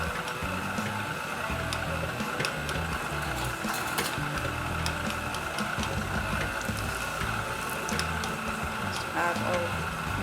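A stand mixer kneads bread dough for bread bowls, giving a steady mechanical whir and churning rumble that runs continuously at moderate loudness.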